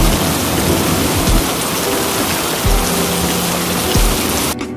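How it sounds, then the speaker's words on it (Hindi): Steady heavy rain pours down close by in a village, with several low thunder rumbles rolling under the hiss before it cuts off near the end. "इस बार धन्ना जी के गांव में बारिश हुई।"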